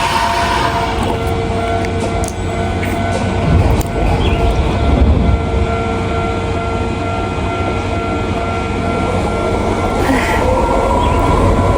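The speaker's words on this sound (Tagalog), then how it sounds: "meron pa parating na train, so nag-close yung gate" A train pulls into a station in Japan with a loud, steady rumble and rolling hum that fills the whole stretch, alongside faint high station tones, with no talking over it.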